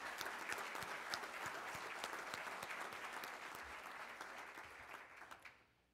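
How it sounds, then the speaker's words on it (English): Conference opening-session audience applauding, a dense burst of many hands clapping at moderate distance that fades out at the end. "Join me in a round of applause for those folks."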